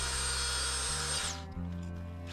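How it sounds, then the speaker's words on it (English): A claret ash wooden bowl spinning on a lathe while being power sanded, a steady loud whir with a high whine that cuts out partway, leaving the lower motor drone running on. "Moving into sanding, and I've decided to power sand this all the way up to 400 grit."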